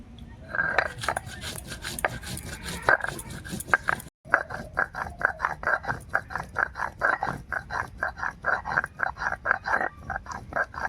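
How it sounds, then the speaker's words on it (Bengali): Cumin seeds being ground by hand on a stone grinding slab, a steady rhythmic series of scraping and knocking strokes, close and fairly loud, continuing after a brief pause. "প্রথমে জিরে বেটে নেব"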